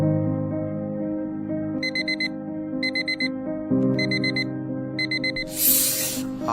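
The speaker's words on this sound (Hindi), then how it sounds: "एक काम करता हूँ 4 बजे का अलार्म सेट कर देता हूँ" An alarm clock set for 4 AM goes off in repeated bursts of sharp electronic beeping over soft background music, ending in a hissing noise.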